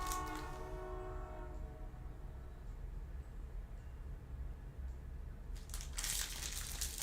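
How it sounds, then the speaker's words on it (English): A train horn sounds outside and comes in through an open window. A long steady blast opens the clip, and a low rumble of rail traffic continues beneath before a brief burst of noise near the end. "so I'm just going to let the train horn go"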